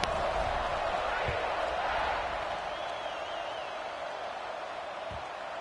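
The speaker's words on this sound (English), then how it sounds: "this crowd is buzzing after that last score" Stadium crowd in a college football video game, Auburn vs Alabama rivalry, a steady broad roar of fans buzzing throughout, with a faint thump or two beneath.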